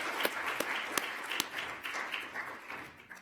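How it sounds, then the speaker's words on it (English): A conference audience at the Royal Society claps together in a dense, steady wash of applause, with a few sharper individual claps standing out near the front. "Let's put another round of applause."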